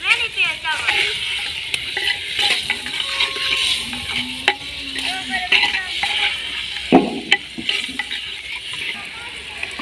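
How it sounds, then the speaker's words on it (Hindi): Potatoes added to a tomato, onion and spice tadka sizzle and fry in a pan while being stirred, with scraping clinks of the spoon against the pot and people talking over the cooking. "तड़का आ गया है, टमाटर प्याज वगैरह को मसालों को अब आलू डाल दिए हैं।"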